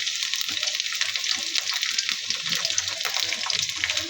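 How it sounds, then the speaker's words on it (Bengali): Prawns fry in hot oil with onion, giving a steady, bright sizzle that holds evenly loud and close throughout, with no talking over it. "মাছটা ভেজে নিব।"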